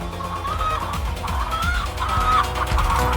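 Parent-flock hens cluck and murmur inside a commercial chicken house, a busy chorus of overlapping calls over a low steady hum of barn machinery.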